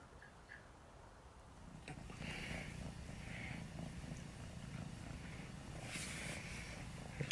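A barn cat purring steadily up close, a soft continuous rumbling purr that grows slightly louder partway through, with no talking.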